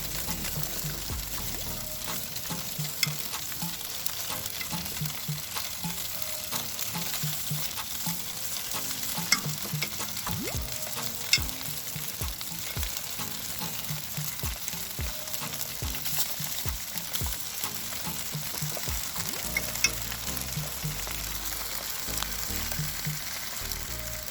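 Steady, dense sizzling of chicken grilling on a hot surface, continuous and close, with a few sharp pops and crackles breaking through.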